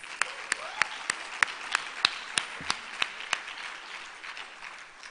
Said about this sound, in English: I think they deserve another warm round of applause.